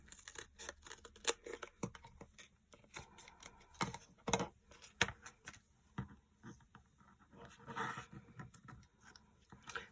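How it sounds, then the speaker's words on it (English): Scissors snip a strip off craft dimensionals for Christmas card making, giving a quick series of close, crisp cuts and rustles of material, with no talking. "Let me cut a strip off here."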